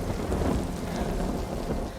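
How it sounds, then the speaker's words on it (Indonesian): Heavy rain pours steadily with thunder rumbling low beneath it, a dense, constant wash of sound with no voices. "di tengah hujan lebat"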